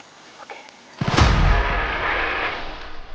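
A single 4.5 mm PCP pre-charged pneumatic air rifle shot goes off outdoors during a monitor lizard hunt. It is one sudden loud crack followed by a broad, rushing outdoor wash that slowly fades.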